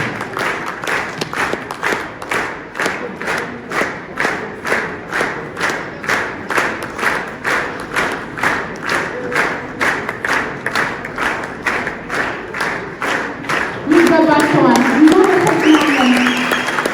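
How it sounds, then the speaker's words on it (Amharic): An audience claps together in a steady rhythmic beat, loud and sustained, before a voice begins speaking over the crowd near the end. "የክብር ጭብጨባውን ተቀበሉ"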